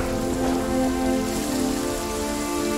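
Dense rainfall in the salt desert in Lost Ark hisses without a break, layered over soft sustained musical tones, heard close and fairly loud.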